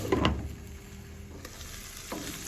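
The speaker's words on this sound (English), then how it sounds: "But we're going to go ahead and we're going to saute our onions." Onions sauté in a pan for ratatouille, giving a soft, steady low sizzle with a few brief stirring scrapes near the start and end. The sound is quiet, close and without talk.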